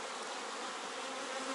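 Honey bees hum in a dense, continuous swarm drone at an opened beehive during queen emergence from queen cells, a close, steady buzz with no talking over it.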